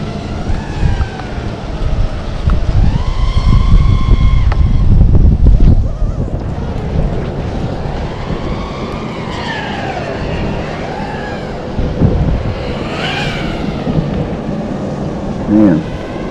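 Heavy outdoor wind buffeting the microphone, a loud continuous low rumble with gusty swells throughout, while a radio transmitter gimbal upgrade is tested; no clear talking.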